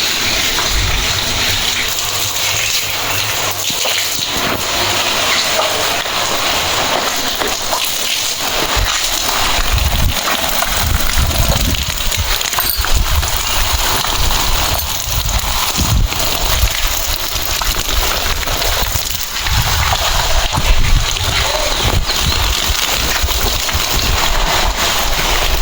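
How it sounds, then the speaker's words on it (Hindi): Water gushes from a tap in a village courtyard to water flowers on a cloudy, cool morning, a loud, steady rushing flow that continues throughout with small splashy fluctuations. "अभी पानी आया है, रात को भी था थोड़ा"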